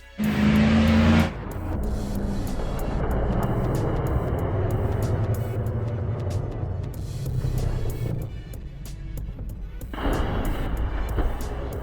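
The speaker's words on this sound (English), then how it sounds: "show off his latest stunt that he pulled off driving a Jeep into trailers." A Jeep engine roars steadily through a stunt run that ends with the vehicle driving into trailers, with a sharp, louder burst at the start and near the end over a continuous rumble.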